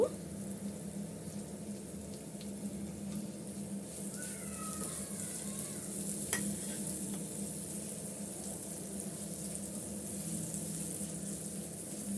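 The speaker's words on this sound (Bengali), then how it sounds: "আমি রসুন আর পেঁয়াজটা একসাথে একটু ভেজে নেব" Garlic and onion frying together in a pan of oil, a soft continuous sizzle that stays quiet and even throughout, with a faint clink partway through.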